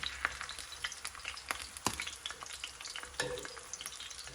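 Chicken flautas fry in oil with a soft, continuous sizzle dotted by sharp pops and crackles at irregular intervals, close and fairly quiet, with no speech.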